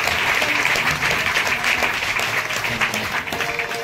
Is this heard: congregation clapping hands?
yes